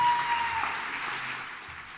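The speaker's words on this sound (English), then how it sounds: "give a warm round of applause to Suriyaan." Conference audience clapping to welcome a speaker at a childhood obesity plenary panel, a soft, moderate patter of hands that gradually thins out, with a brief electronic tone near the start.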